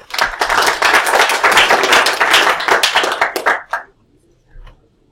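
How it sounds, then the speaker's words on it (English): A lecture class applauds at the end of a lesson, with brisk individual claps close by that build into steady clapping for about three and a half seconds, then trail off into near silence. "I waited until the applause was over before I stopped the recording."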